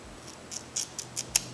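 Scissors snip hair from a curly closure wig in a quiet room, giving about six short, crisp cuts spaced at an irregular rhythm, close and fairly soft, with no talking.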